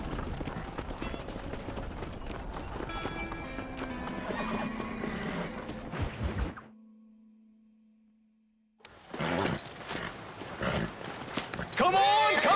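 Horses in the Red Dead Redemption video game clop and neigh on a ranch amid shouting voices and game score, with a sudden quiet gap before the hoofbeats and voices resume loudly.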